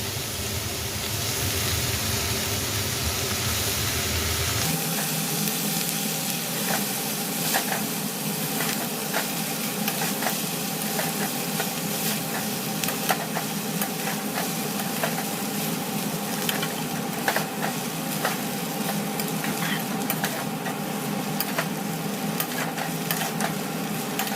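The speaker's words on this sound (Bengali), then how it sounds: "এবার দিয়ে দেবো চাউমিন।" Chow mein stir-fries in a pan with a steady sizzle, its tone shifting after a few seconds, then continuing with scattered scraping clicks of stirring, close and moderately quiet.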